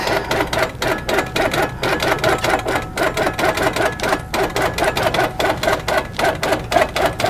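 A longarm quilting machine bastes a quilt loaded on point, stitching with a fast, steady mechanical chatter in regular pulses that runs loud and close throughout.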